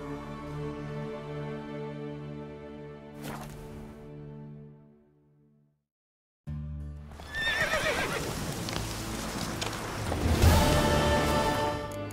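A horse in The Witcher video game neighs loudly with a clear, close whinny, then falls briefly silent before a dense burst of hoofbeats and game sound swells in.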